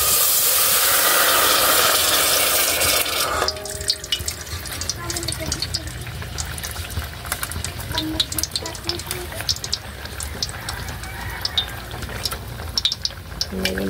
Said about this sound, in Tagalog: So, lagyan na po natin ng tubig.